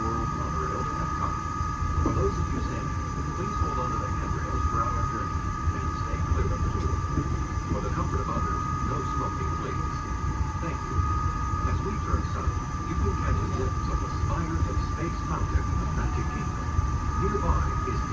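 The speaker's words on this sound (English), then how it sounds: "Welcome aboard the Walt Disney World monorail at Epcot." A Walt Disney World monorail rolls along at Epcot with a continuous rumble and steady electric whine heard from inside the car, fairly loud and unbroken throughout.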